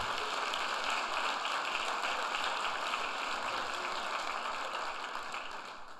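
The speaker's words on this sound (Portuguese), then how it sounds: "Dá um aplauso a Jesus." Sustained applause from a church congregation during a pastors' gathering, a dense steady clapping texture that holds loud and even for several seconds before easing slightly at the end, with no voices over it.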